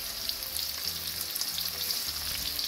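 Goat brain fries with onion, salt and whole spices in a pan, giving a faint, even, steady sizzle with no voices.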